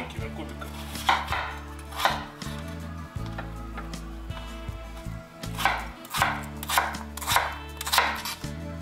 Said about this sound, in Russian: Картошку мы приготовим маленькими кубиками.